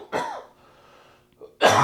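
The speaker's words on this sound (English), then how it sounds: "here comes a cough attack" A person's cough attack: a harsh cough, a short pause with a small throat sound, then another loud cough bursting in at the end, close and alone.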